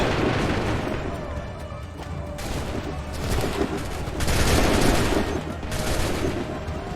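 Sustained volley of musket and rifle fire in a battle in Assassin's Creed 3, with dense overlapping shots and rumbling booms that swell louder toward the middle and end, continuous throughout.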